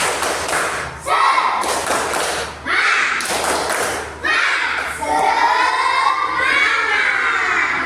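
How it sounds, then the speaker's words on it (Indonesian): A room of students at an Islamic jurisprudence class claps in loud, rhythmic group patterns for two rounds of spirit clapping, each burst a tight run of sharp thuds, with excited shouting and voices between and after the rounds. "2 kali tepuk semangat"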